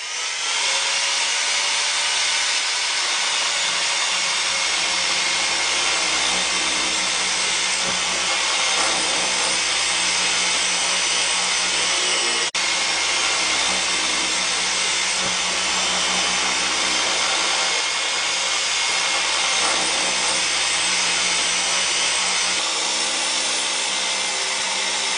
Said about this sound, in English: this is a diamond rotor bit, and it's going to give it a full bull nose